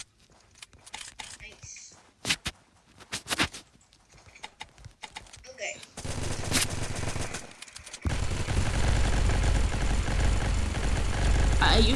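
A minigun fires in the video game Zombs Royale. Scattered sharp shots come first, then a sustained loud, dense rattling burst takes over for the last several seconds, with a player speaking over the early part.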